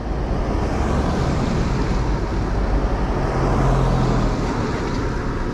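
Street traffic rumbles by as a continuous broadband wash, steady and fairly loud throughout, with a brief low engine drone passing midway and wind buffeting the microphone; no one speaks.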